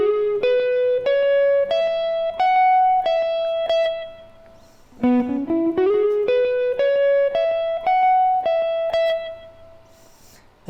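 An electric guitar plays a syncopated lead phrase from a solo, clean sustained single notes stepping upward in two rising runs, separated by a short gap, loud and alone.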